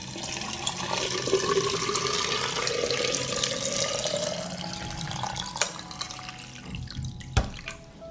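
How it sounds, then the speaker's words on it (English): Boiling water poured from a kettle into glass jars packed with tomatoes, a steady close gurgling pour with a rising fill tone, then a couple of sharp clinks near the end. "I'm going to pour the water into the jars to cover the tomatoes."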